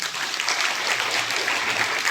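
Audience applause at a Christian religious retreat program in Khunti, a steady dense clapping held at even loudness throughout with no break.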